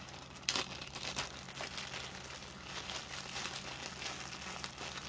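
A plastic bag holding a custom figure torso kit is handled close by, giving quiet, intermittent crinkling and rustling with a sharper crackle near the start, over low background hum.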